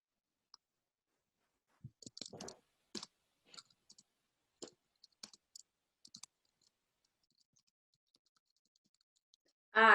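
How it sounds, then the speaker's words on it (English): Scattered clicks and taps of a computer keyboard heard through an online meeting, irregular and fairly close, with quiet gaps between bursts and a louder noise at the very end. "Because I heard someone typing"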